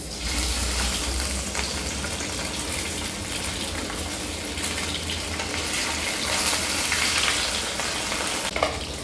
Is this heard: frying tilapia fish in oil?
yes